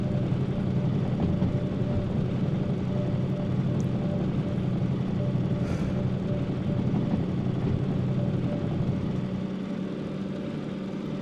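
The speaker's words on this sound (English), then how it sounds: "I'm going to use the engine brake here, which is supposed to sound like that." A steady low engine rumble drones continuously from a train's engine brake in a train video game, even and sustained with little change in loudness.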